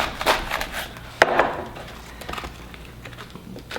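Knife slicing through red cabbage ribs and leaves on a wooden cutting board, giving a few sharp close chops and scattered crisp cuts with light rustling between them.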